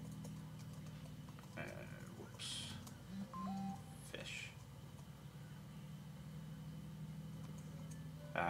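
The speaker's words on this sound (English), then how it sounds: "my phone's going bonkers right now" Short electronic beeps and tones chirp on and off over a steady low hum, scattered irregularly through the stretch.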